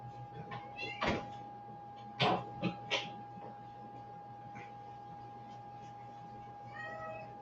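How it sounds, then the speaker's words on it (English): A small cat meows several times nearby: a couple of short calls early, a louder drawn-out meow partway through, and a softer one near the end, over a faint steady hum. "What, little kitty?"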